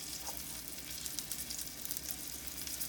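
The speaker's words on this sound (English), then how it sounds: "Put them in some hot grease." Sweet potato fries sizzle steadily in hot frying oil, a constant close hiss with a dense bubbling crackle.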